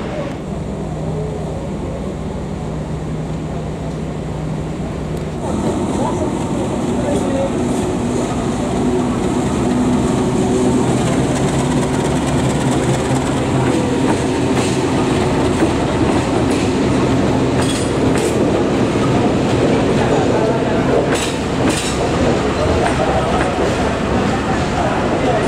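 Taksaka passenger train, newly built by PT INKA, rolls along the rails with a steady loud rumble and rhythmic wheel clatter that swells after the first few seconds and continues throughout.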